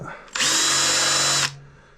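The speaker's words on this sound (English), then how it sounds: "just gonna drill out this hole now, make it a bit bigger" A power drill bores out and enlarges a bolt hole on a Tomos Targa LX moped, one loud steady whine lasting about a second after a brief start, then cutting off sharply.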